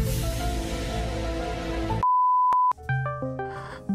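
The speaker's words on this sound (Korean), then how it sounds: "전화 왔다" A phone's electronic ringtone as an incoming call arrives during a live broadcast: after a stretch of tonal music, a steady beep sounds, followed by a short rising sequence of clear melodic tones, close and fairly loud.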